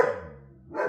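A pet dog gives a single loud bark close by, followed by a short pause and the start of another bark.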